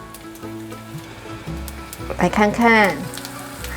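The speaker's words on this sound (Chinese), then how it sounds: "锅内放入适量的油，油已经热了，把酥鱼放进来煎" Vegan fish pieces, made from cabbage and seaweed, pan-frying in hot oil in a flat-bottomed wok, a steady sizzle that swells louder midway, with a brief voice speaking near the start.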